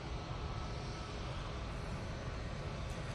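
A Ryanair airliner taxiing at Manchester Airport gives a continuous, broad engine roar and rumble, steady and fairly distant with no speech over it.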